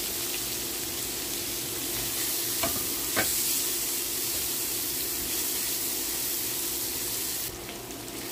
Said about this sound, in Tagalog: Caramelize na yung ating sibuyas.